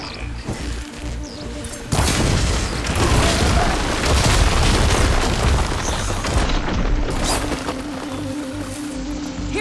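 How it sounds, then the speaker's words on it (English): Glowing crystals detonate in Horizon Forbidden West: a sudden loud boom at about two seconds gives way to a dense, sustained roar of crashing debris that stays loud to the end. "See those glowing crystals? Takes one hit to detonate."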